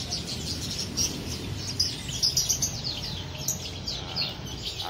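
Cucak perling songbird giving bright, repeated short chirps and tweets at a bird market, moderately near, over a low murmur of market background noise.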